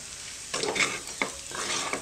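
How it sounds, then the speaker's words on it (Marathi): Moong dal roasting in ghee in a pan, a few soft scraping stirs over a faint steady sizzle, close and quiet. "जशी जशी ही परतली जाईल तशी तशी याचा दाणा दाणा मोकळा होतो, तूप ह्याला सुटतं"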